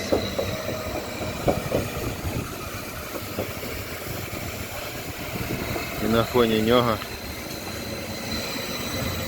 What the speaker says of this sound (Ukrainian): Вон іде сучасний потяг.